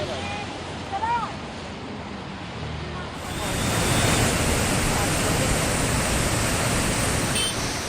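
A flooded Beas river rushes in spate beside the old British-era Victoria Bridge in Himachal Pradesh during heavy monsoon rain, a loud, steady broadband roar that swells after a few seconds and continues unbroken.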